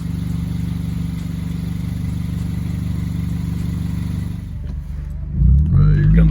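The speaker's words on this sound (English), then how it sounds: "Here comes first gear." 2011 Hyundai Genesis Coupe 2.0T turbo engine with a newly installed Mishimoto intercooler and piping, idling loud and close with a steady hum before the car pulls away in first gear, ending in a louder burst.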